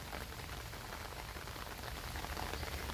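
Steady rain falls at a graveyard, a dense, even hiss of drops on surfaces that continues unbroken and fairly loud throughout with no voices.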